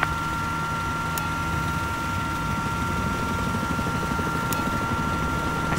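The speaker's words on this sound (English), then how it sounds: "Oh, I got eyes on an enemy helicopter." An enemy helicopter in the video game Battlefield 4, a steady loud rotor and engine drone that holds continuously with a constant tone, accompanied by occasional short clicks and no talking.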